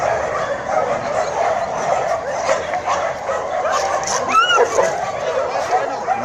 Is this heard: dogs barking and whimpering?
yes